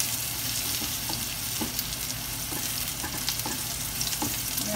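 Tandoori chicken cooking in a covered pan over low flame, giving a loud, dense, continuous sizzle with faint intermittent pops and no talking.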